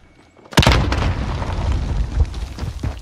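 A grenade blows up in Warzone with a sudden loud boom after a quiet lead-in, then a rumbling, crackling tail and a few smaller thumps that linger for several seconds.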